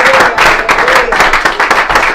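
A church congregation claps and cheers in praise of Jesus, dense loud applause in a rhythmic, steady wash of many hands, with a faint voice rising in the mix.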